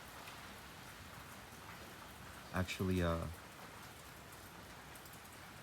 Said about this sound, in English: The rain is getting more dense.